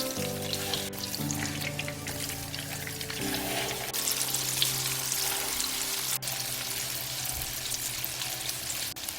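Dongeurangttaeng meat patties fry in oil in a covered pan, giving a steady close sizzle with a sustained tonal hum beneath it and a few faint clicks.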